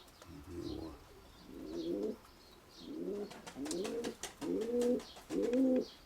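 Pigeons cooing in a pigeon loft, a series of about six soft rolling coos in a steady rhythm, close by, with a few faint chirps and clicks between them and no talk.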